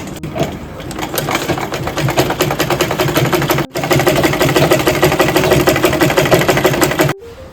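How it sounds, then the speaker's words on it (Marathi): A sewing machine stitches a binding strip onto a baby quilt, running in a loud, steady rapid chatter with a brief stop partway and a halt near the end, close up with no voices. "आता आपण पट्टीला शिलाई मारून घेऊया"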